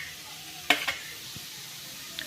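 Quiet, constant sizzling of onion and garlic frying in a kadhai on a gas stove, with a couple of sharp utensil clinks near the start and another faint one later.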